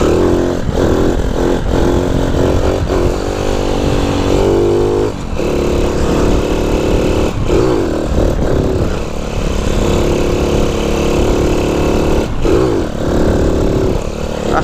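A Honda Cub C90 motorcycle with a 140cc engine being ridden, its loud, close engine droning and revving continuously, with rises and dips in pitch as it accelerates and shifts gears.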